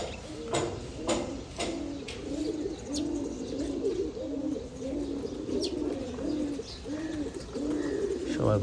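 Pet pigeons coo in a steady, repeating chorus of low throaty calls, close and clear, with a few sharp clicks or wing sounds near the start and no talking.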